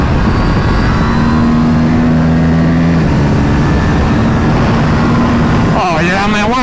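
A KTM RS 457 motorcycle engine pulls up toward highway speed, a loud steady drone with rising and falling engine tones under heavy wind rush, and a sharper climbing rev near the end.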